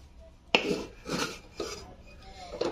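Flour dough being stirred in a pan: four distinct scraping, clattering strokes of a utensil against the cookware, spaced about a second apart, close and fairly loud with quiet gaps between.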